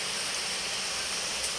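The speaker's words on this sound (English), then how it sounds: "the rain is so heavy that I think you can hear it" Heavy rain pours down in a steady, dense hiss with no breaks, constant and close throughout.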